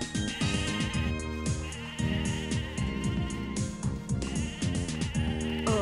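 Sheep in a pasture in the video game Mabinogi bleat repeatedly over game music. The calls are close and fairly loud, with no talk over them.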